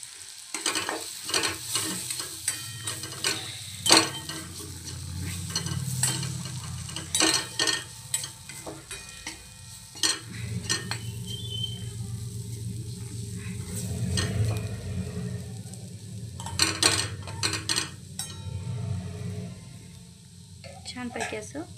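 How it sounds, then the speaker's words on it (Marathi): French beans and crushed peanut powder with turmeric being stirred and sautéed in a pan, steady close sizzling under repeated spatula scrapes and clinks against the metal throughout. "छानपैकी असं परतून घेऊया।"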